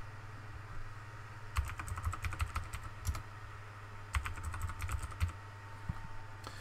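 Keys clatter on a computer keyboard in two short bursts of quick taps, close and fairly quiet, as a password is entered, with a faint steady hum behind.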